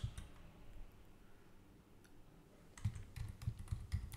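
Typing on a computer keyboard during an Arduino library installation: soft scattered clicks at first, then a denser run of close, quick keystrokes near the end, with no talk.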